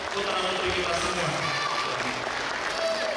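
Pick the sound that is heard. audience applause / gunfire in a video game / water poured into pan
audience applause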